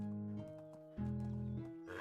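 A horse in the Medieval Dynasty video game gives a steady tonal neigh-like call, held and shifting in pitch over about two seconds, loud and close, with no talk.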